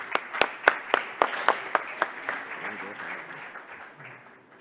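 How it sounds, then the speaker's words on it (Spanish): At a hackathon closing ceremony, a small audience gives a short round of applause: about a dozen distinct, evenly spaced claps up front that blur into softer scattered clapping and fade out. "un aplauso"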